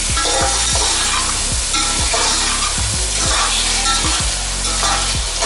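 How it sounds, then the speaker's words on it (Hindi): Steady, loud sizzling of paste frying in hot oil, with regular scraping stirs of a spoon against the pan. "अब इसमें इसको फ्राई करूँगी"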